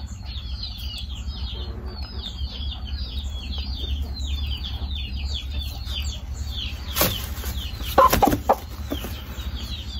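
Chickens cluck and peep in a quick run of high, repeated calls over a steady low hum, followed by a couple of louder rustling bursts near the end.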